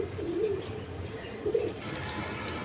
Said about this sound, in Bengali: এখানে 2টা মাদি কবুতর আছে, খাকি গলা 2টা মাদি